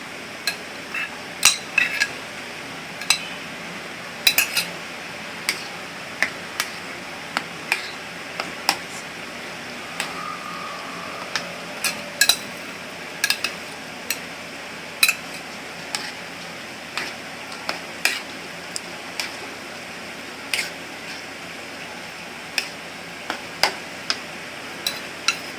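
A spoon scrapes and taps against a pan while mixing mac and cheese with pepperoni, with irregular clinks and ticks spread over a soft steady background hum.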